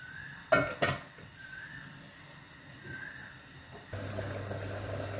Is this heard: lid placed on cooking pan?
yes